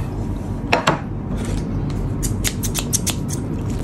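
Scissors snip through crispy fried chicken repeatedly, a few crisp cuts early then a quicker run of clipped snips, close up in a quiet room.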